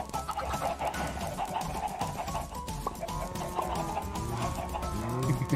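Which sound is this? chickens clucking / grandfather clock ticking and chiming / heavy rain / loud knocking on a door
chickens clucking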